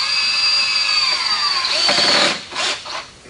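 Power drill driving a Tapcon screw up into a header while installing a column, a loud close whine that rises in pitch then bogs down into a few short bursts as the screw seats, with no speech.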